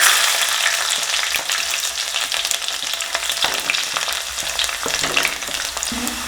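Chopped garlic and ginger fry in a hot pan for a Kerala crab curry, a steady crackling sizzle close up with no voices.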